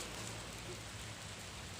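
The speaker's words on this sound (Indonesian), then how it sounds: "Hujan sekarang guys, gerimis." Light drizzle gives a steady, even hiss of rain outside a cafe, with no distinct drops or other sounds standing out.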